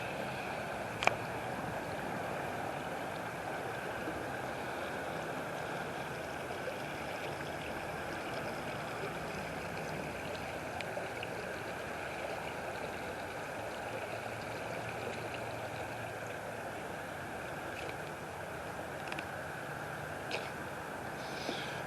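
A creek flows steadily outdoors where an old bridge once crossed it, a continuous broadband rush of water with occasional small splashes, no talking.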